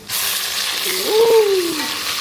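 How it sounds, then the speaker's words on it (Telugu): Ginger garlic paste fries in a pan for homemade haleem, a steady close sizzle with faint stirring, briefly crossed by a short tonal squeak or voice-like sound in the middle. "అల్లం వెల్లుల్లిపాయ పేస్ట్ వేగిపోయింది అంతేనా?"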